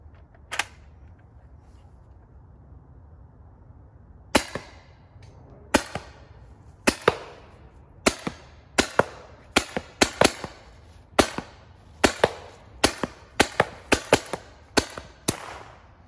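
An FN303 less-lethal launcher fires a series of sharp, dry pneumatic pops, first single shots spaced apart, then a quicker irregular string of about a dozen close shots over a quiet background.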